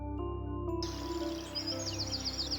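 Birds chirp and sing in short, repeated high tweets over a steady musical background, moderately loud throughout.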